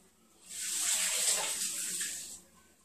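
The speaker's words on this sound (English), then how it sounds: "first I'll fill my bathtub up with warm hot water, however you like it" Warm water runs from a tap into a bathtub for an Epsom salt bath: a steady, hissing rush that swells in, holds for about two seconds and fades out, with no one talking.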